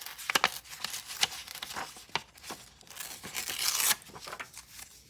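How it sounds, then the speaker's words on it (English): Small scraps of graph paper are cut for a craft project, giving quiet, close crinkling and snipping with short tearing bursts in an irregular rhythm. A brief, brighter rustle swells near the end, and no one speaks. "I'm cutting these little scraps"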